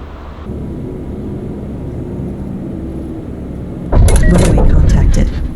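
An airliner in Microsoft Flight Simulator rolls along with steady engine rumble, then a sudden louder thud and rushing roar as the wheels touch down on the runway, fading away after about a second.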